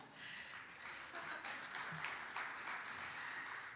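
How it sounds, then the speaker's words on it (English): An audience at a university conference session in Edmonton gives faint, distant, steady applause that holds evenly for a few seconds. "yeah, applause."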